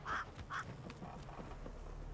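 Crows caw in The Witcher 3, with two quick harsh calls close together at the start, then quieter ambient game sound.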